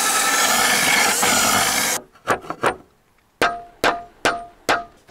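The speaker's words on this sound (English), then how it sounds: "I countersink this hole." Countersinking a screw hole in a roofing slate on a stone roof: a steady two-second grinding rasp, then several short, sharp scraping strokes with brief pauses between them, close and fairly loud.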